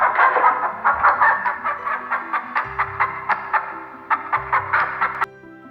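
A hen clucks in a quick, steady run of short, close calls, about a dozen evenly spaced pulses with faint low background sound and no talk.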